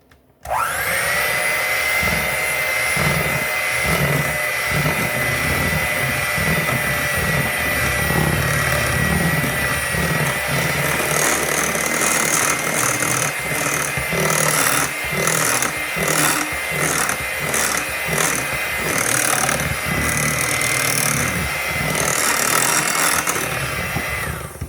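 An electric hand mixer whirs continuously for a long stretch, its steady motor drone wavering and rattling as the beaters work through thick gluten-free banana muffin batter.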